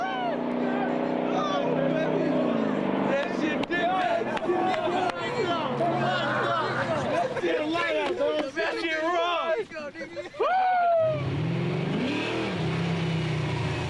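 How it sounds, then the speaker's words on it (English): Cars street race at high speed on a public road in Fremont, California. Engines rev and whine with rising and falling pitch, passing close, while someone talks over much of the clip. "these two young drivers are about to race head-to-head on a public road"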